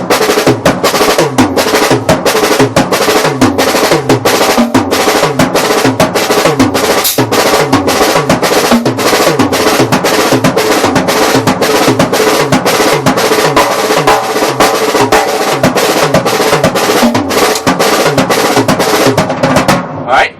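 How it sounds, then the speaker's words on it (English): A drum kit improvising a six-stroke roll pattern with accented single notes on the toms, loud and close, a dense, steady stream of rapid strokes with regular booming tom accents and cymbal wash running throughout. "put the accented notes, the single accented notes, on the toms"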